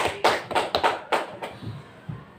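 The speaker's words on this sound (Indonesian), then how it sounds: "Tepuk tangan untuk Ibu Imas" Scattered clapping from a small classroom or workshop audience, a handful of separate claps over about two seconds that taper off quickly, fairly close and moderately loud.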